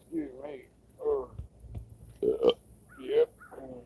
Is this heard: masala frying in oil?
no